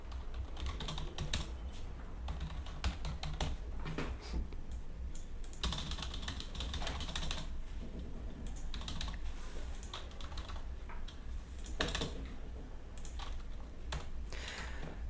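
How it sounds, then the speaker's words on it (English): Rapid clicking keystrokes on a computer keyboard continue steadily and close up, with occasional louder taps like the space bar, while a line is typed into a Word document. "you can easily write by typing it."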